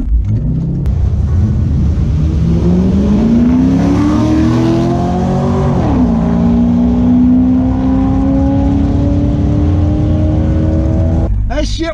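A nitrous-fed C5 Corvette launches down a drag strip, its loud engine note climbing steadily through the gears with a clear shift partway before pulling hard again, close and continuous to the end.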